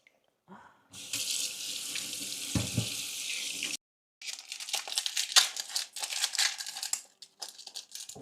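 Hassa fish being washed by hand under a running tap in a sink, a steady broadband rush of water with splashing and rubbing, broken by a short pause before resuming with choppier splashes; no talking.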